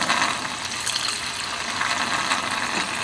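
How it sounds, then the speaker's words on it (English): Air bubbles churn through the water of an IBC tank in an aquaponics system stocked with tilapia, producing a steady, dense gushing and fizzing that runs unbroken and fairly loud throughout. "So here come the bubbles again."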